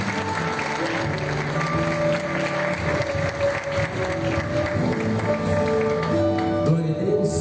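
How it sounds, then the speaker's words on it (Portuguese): A church congregation at a Wednesday missions service claps together, dense continuous applause with a tonal musical drone beneath and a few voices mixed in. "Aplauda o Senhor."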